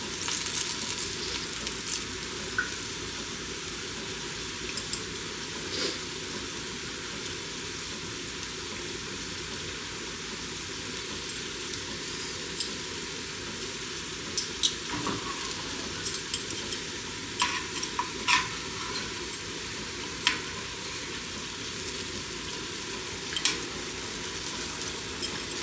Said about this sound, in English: because I'm doing it in a shallow pan with the oil not fully covering the onion, we're going to be flipping these